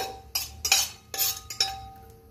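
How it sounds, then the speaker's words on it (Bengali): Whole garam masala spices stirred in hot ghee in a pan, several sharp bursts of crackling sizzle and metallic spoon scrapes against the pan, close and fairly loud, with no talking. "ঘিটা গরম হলে এর মধ্যে গোটা গরম মশলা দিয়ে দিলাম, দিয়ে একটু নাড়াচাড়া করব"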